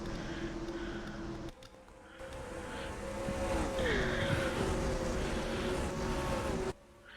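Race cars roaring past in the NASCAR Racing 2003 game, a steady engine drone that swells and bends in pitch as the pack flies by, then cuts off abruptly, with no voices.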